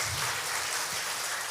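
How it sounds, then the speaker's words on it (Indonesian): Audience applause at a BKKBN East Java event in a hotel in Jember, a dense, steady clapping from a room full of people, loud and continuous with no talking over it. "boleh kasih tepuk tangan untuk Pak Nanang juga"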